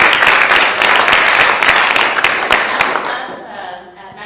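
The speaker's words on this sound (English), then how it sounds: "Round of applause for the students." Applause from a graduation-ceremony audience celebrating students on an Alaska field program, a dense wash of many hands clapping loudly at first, then slowly thinning and fading out.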